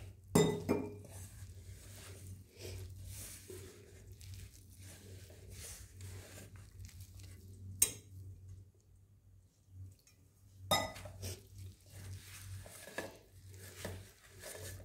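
Drumstick flower pakora batter is mixed with water in a bowl for Bengali sojne phooler bora, a quiet run of wet squelching and light clinks against the bowl, with a couple of sharper knocks and brief pauses.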